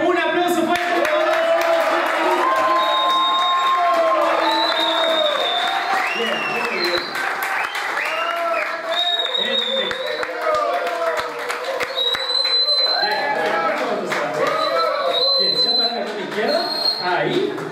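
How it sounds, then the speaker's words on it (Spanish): Lively audience applause at a comedy magic show, sustained clapping and crowd noise mixed with speech and whistle-like tones throughout. "Sebastián, un aplauso fuerte por favor."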